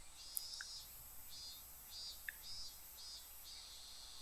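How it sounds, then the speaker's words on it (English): Cicadas drone in pulsing waves in the early afternoon in the game Tatarigoroshi, a high, steady, rhythmic chorus that is fairly faint and distant, with one or two small clicks and no voices. "Outside, it was still early enough for the cicadas to be crying."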